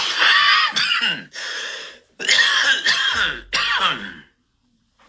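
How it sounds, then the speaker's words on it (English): A person coughs harshly several times in a row, rough and close, with short gaps between the hacking bursts. "Goddamn, about to cough up a lung."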